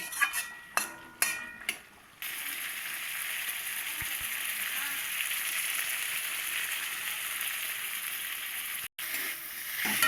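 Pointed gourd frying with mustard paste and spices in a pan gives a steady, close sizzle that holds throughout, preceded by a few sharp clinks of a utensil against the pan.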